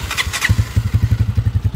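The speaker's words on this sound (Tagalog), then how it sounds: "ito yung motor nya, Alpha 125. So tapos na natin i-convert sa 175cc. Yan, start natin." Honda Alpha 125 motorcycle converted to 175cc starting up nearby, a brief cranking whir then a loud, rapid, even single-cylinder putter settling into idle.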